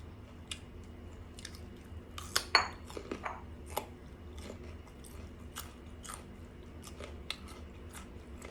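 Someone chews crispy squid close to the mic, with faint, irregular crunches and bites over a low steady background hum.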